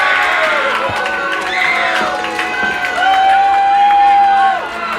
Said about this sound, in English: The crowd give him a little bit of praise, maybe a 50-50 reaction.